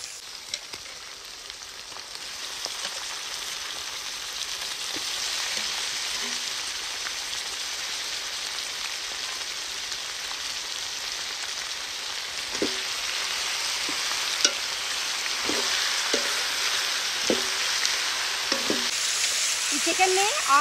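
Steady sizzle of a kilo of washed chicken frying in hot oil over ginger-garlic paste for a village-style Indian chicken curry, a loud continuous crackle with a few stirring knocks toward the end.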